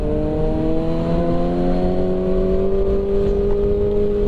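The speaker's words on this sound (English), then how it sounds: "the engine braking on my bike's a lot stronger though" A sport motorcycle engine drones steadily and loudly during a ride, its pitch sinking slowly as the bike engine-brakes, with a constant whirring tone and no voices.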